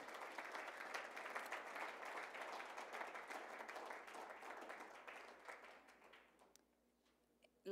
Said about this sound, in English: Let's give a wonderful round of applause to School 58